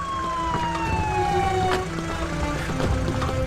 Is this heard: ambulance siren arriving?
yes